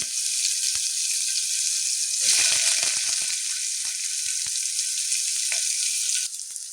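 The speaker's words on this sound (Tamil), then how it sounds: "இது பொரியும் போது வெங்காயத்தை ஆட் பண்ணிக்கிறேன்" Whole spices such as poppy seeds, fennel, cinnamon and cloves frying in oil with onions for vegetable kurma, a steady bright sizzle with a few soft stirring taps and a brief louder surge.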